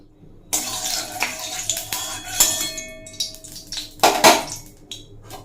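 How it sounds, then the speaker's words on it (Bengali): Mustard oil poured into a hot wok (kadai) while cooking okra, with sharp metallic clinks and knocks of utensils against the pan and a soft liquid wash, fairly close and with no voices. "কড়াই গরম করে তাতে দিয়ে দিচ্ছি পরিমাণ মতো সর্ষের তেল"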